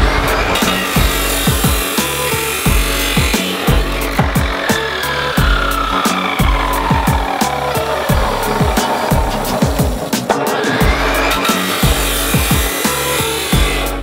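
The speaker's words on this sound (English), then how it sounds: "the first thing I'm going to do is chop down my 6-foot lengths of this fence post down to 18-inch lengths" Power tool cutting 6-foot fence posts down to 18-inch lengths for a ballasted hoop house, loud close rasping cuts with rhythmic bursts and a whining sweep, no talking.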